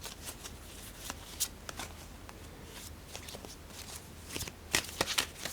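Ritual Tarot cards are shuffled by hand, giving soft riffling flutters and sharp snaps at irregular intervals, close and fairly quiet, with no talk.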